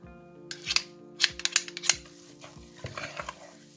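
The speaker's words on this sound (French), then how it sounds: "Donc là on va bien mélanger la purée avec le persil." Mashed potato being mixed with parsley in a pot, heard as a series of close, distinct utensil knocks and scrapes at an uneven rhythm against a faint steady hum.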